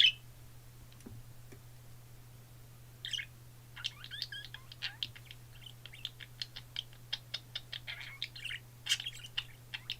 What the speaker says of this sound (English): I hope my birds aren't being that loud